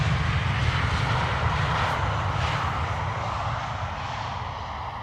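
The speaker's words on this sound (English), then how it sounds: "KLM just now landed." KLM airliner landing at Amsterdam Schiphol Airport, a steady broad jet roar with deep low rumble that holds loud and close, then slowly fades over several seconds.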